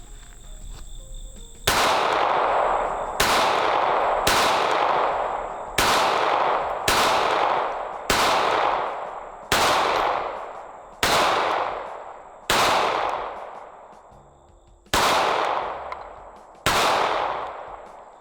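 A Smith & Wesson Bodyguard 2.0 pistol, a new 2024 model, fires about eleven loud, sharp shots at uneven intervals, each crack followed by a decaying ring, with no talking.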